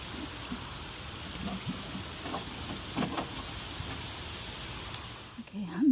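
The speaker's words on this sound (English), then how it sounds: "I'm watering it halfway, so this will eliminate some air pockets." Water splashing steadily onto garden soil around a newly planted perennial, a continuous rain-like hiss with small uneven spatters, swelling briefly near the end.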